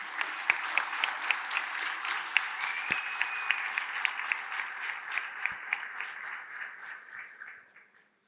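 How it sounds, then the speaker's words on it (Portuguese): A church congregation claps together in a steady, rhythmic beat, dense and moderately loud, with sharper accents at regular intervals before tapering off and cutting out near the end. "nós celebramos com a nossa melhor oferta de palmas no nome de Jesus"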